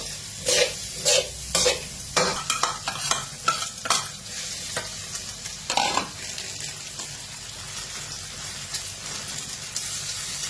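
Kale sizzles in a hot pan over a gas flame as a utensil scrapes and tosses it in quick, rhythmic strokes, then the frying hiss continues steadily.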